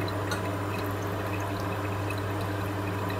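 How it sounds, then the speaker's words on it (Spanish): Coca-Cola is poured from one glass into another, giving a continuous close splashing and trickling stream that holds steady throughout with no pauses. "He ido pasando a otro vaso para ver si así..."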